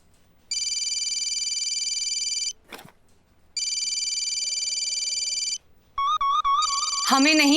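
A phone ringtone plays close and clear, two long steady ringing bursts separated by a short gap, then a brief warbling electronic melody near the end, with faint voices in the background.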